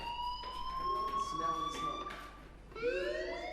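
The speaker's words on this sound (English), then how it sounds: "do you hear that fire alarm?" Fire alarm in the video game Life is Strange, a high, steady electronic tone that holds and then rises again, with a voice speaking over it in places.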